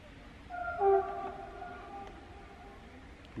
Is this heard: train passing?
yes